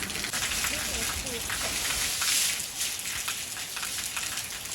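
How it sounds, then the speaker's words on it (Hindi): Steady rain pattering on surfaces outdoors near a village temple, a continuous hiss with scattered drops that rises briefly midway, with a voice talking faintly underneath. "and it's raining"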